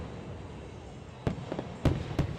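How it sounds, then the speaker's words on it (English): Fireworks bursting over a hilltop at night: after a steady hum of crowd ambience, three or four sharp booming bangs ring out in the second half, fairly distant and echoing. "The night ended with a bang as scholars watched the fireworks show from the top of Science Hill."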